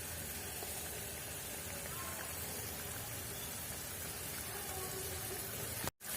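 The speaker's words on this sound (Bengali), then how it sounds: "জলটা ফুটছে।" Water comes to a boil in a pan of cooked spice paste, ready for cauliflower pieces: a steady, close bubbling hiss that runs unbroken for about six seconds, then cuts off abruptly.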